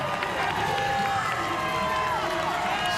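Spectators cheer along the finish stretch of the 2021 New York City Marathon, a steady wash of crowd noise with a voice talking over it throughout.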